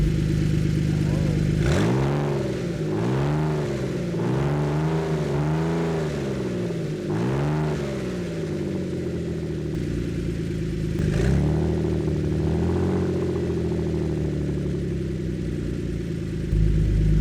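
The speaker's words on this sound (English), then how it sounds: "It sounds really deep and really gnarly." Repeated throttle blips from a Ford Flex EcoBoost running open exhaust: several deep, raspy revs rise and fall in quick succession, then the engine settles into a loud, steady idle close by.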